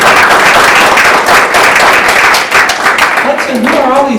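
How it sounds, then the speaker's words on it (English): Loud, dense applause and cheering from a school board meeting crowd for a young student named Hudson, sustained clapping with voices rising near the end. "Let's give a round of applause"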